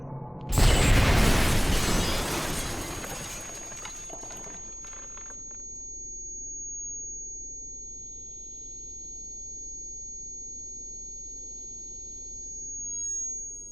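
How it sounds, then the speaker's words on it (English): A loud burst from an in-game explosion in Batman: Arkham Asylum, a broad crash that fades over a few seconds into a low, steady hum with a thin sustained high whine running through the rest. "We were not that close to the explosion."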